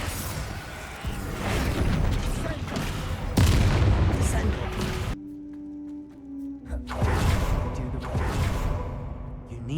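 Spell blasts from the video game Hogwarts Legacy: loud booming, whooshing bursts in rapid succession with a short quieter gap before more blasts, mixed with game voices.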